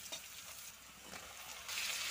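Lotte dried fish (shutki) fries in a pan with chillies, garlic and onion, a soft steady sizzle and crackle with light stirring, faint and close with no talk.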